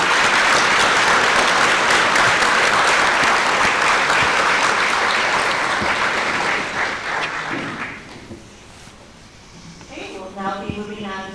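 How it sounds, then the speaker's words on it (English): Audience at a school board candidate forum applauds loudly and steadily for several seconds, then the clapping fades into lighter scattered claps and a bit of talk near the end. "Let's give our school board candidates a round of applause."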